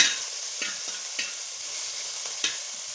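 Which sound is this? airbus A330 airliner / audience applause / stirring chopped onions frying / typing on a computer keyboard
stirring chopped onions frying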